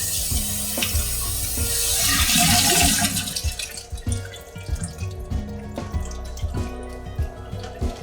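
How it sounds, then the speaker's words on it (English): Tap water running and splashing through a sink P-trap as it is rinsed clean, a loud rushing stream that gives way to irregular drips and gurgles. "You may also use water."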